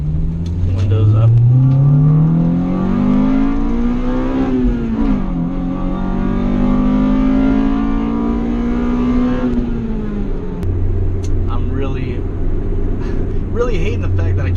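An Acura Integra GSR accelerating hard through a first and second gear pull with the windows up, the engine note rising steadily, dipping at the shift, then climbing again before settling into a lower drone.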